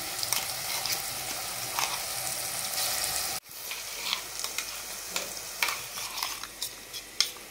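A ground spice paste of chili powder, salt, turmeric, ginger and garlic sizzles in a pan for Telangana-style fish curry. The frying hiss is steady, with stirring scrapes and clicks, and cuts off abruptly midway before resuming.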